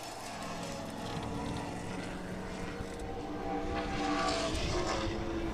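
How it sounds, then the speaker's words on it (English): A race car at the 2014 O'Reilly Auto Parts Grand Prix roars past close by, its engine note rising and building in loudness as it picks up speed down the straightaway. "Oh, that car just went by us"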